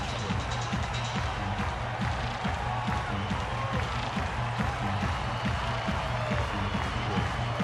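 A baseball stadium crowd cheers loudly during the fifth inning of a Los Angeles Dodgers home game against the San Francisco Giants in October 2012, a dense, sustained roar with applause and a broadcaster talking over it.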